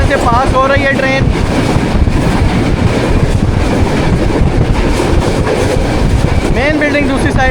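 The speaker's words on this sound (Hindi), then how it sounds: "गरीब शहीद रेलवे स्टेशन से पास हो रही है ट्रेन।" The Pak Business Express rushes along the rails at speed, a loud continuous rumble with rhythmic clickety-clack from the wheels and wind buffeting inside the carriage.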